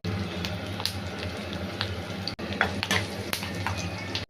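Cumin, mustard seeds and asafoetida frying in oil as a tempering for bottle gourd dal, a steady close sizzle with light crackles and spatula scrapes, heard under a woman's speech.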